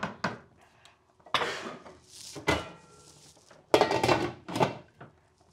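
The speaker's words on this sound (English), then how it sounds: "cover it and cook it for low heat until the cauliflower and potatoes are cooked" Metal pan of aloo gobi with cauliflower and potatoes being handled and covered with its lid, a series of separate clanks and knocks with quiet gaps between them, close and moderately loud.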